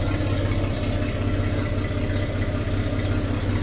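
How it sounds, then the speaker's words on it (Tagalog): A boat's engine runs at a steady idle, a dense continuous low rumble with a faint rattle and no change in pace throughout, heard close up with no voices. "Papaandar tayo ng ano, makina."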